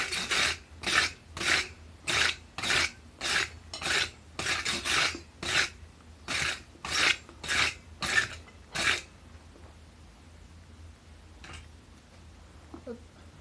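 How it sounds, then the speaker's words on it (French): Wire brush scrubbing a freshly forged metal piece at the forge: about fourteen quick, rhythmic rasping strokes, close and fairly loud, then stopping abruptly, leaving a quiet workshop with faint movement. "Un coup de brosse."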